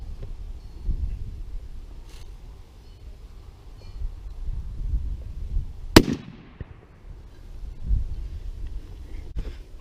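A single sharp shotgun blast from a turkey load fired outdoors, loud and close, with a short decaying tail, set against steady wind noise and rustling for the rest of the stretch.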